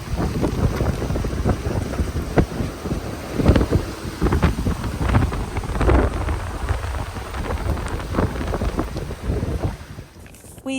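Sailboat heading out of Calmly Harbour in the subantarctic Auckland Islands, with strong wind buffeting the microphone, water rushing against the hull and gusty rumbling surges, loud and continuous throughout.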